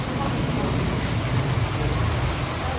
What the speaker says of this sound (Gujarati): વરસાદ બહુ વરસે છે